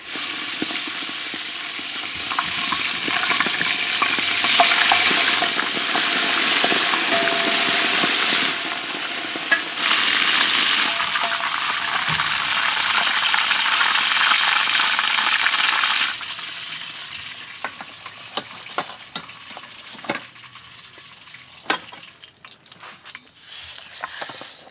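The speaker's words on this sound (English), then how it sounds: "So that entire chicken, once the oil is hot, once it's stuffed, gets deep fried whole." A whole stuffed chicken and a dove deep frying in hot oil give a loud, steady broadband sizzle that runs for about sixteen seconds, then thins into scattered pops and crackles as the bubbling calms.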